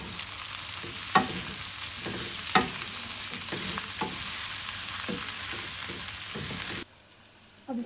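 Spiced potatoes being stirred in a hot pan for aloo katli, a steady close sizzle of frying broken by a few sharp scrapes of the spoon, cutting off near the end.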